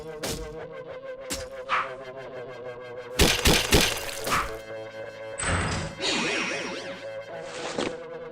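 In the Felvidek video game, a bow attack on a cultist knight brings sharp whooshes, whip-like swishes and heavy thwacking impacts in bursts, with ringing tones and a steady musical drone beneath.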